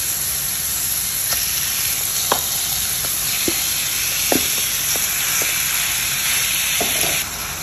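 Chicken breast frying in a pan with garlic and onion gives a loud, continuous hissing sizzle, steady throughout, dotted with scattered small pops and spatters.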